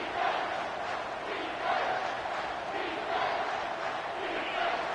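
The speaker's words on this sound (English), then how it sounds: "this crowd will blow out a vocal cord to help this defense" Stadium crowd roaring in the NCAA 25 college football video game during a Texas A&M at Michigan matchup, a dense, sustained wall of cheering with gentle swells and no clear individual voices.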